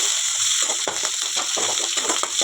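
Onions sautéing in a pan for Sivaganga-style fish curry with green chillies and curry leaves, a steady close sizzling hiss broken by soft stirring scrapes, with no voices.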